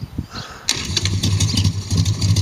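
A cool Harley motorcycle engine cranking and catching, a short rough start that settles into a lumpy low idle, close by with no talking.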